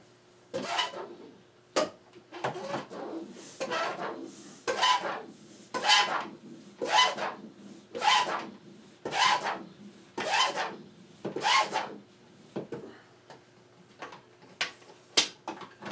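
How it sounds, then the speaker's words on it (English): Bicycle tyre being inflated with a hand air pump, around a dozen rhythmic strokes, each a breathy rasping whoosh, evenly spaced and fairly close, with no talk. "So I'm going to go ahead and use my air pump."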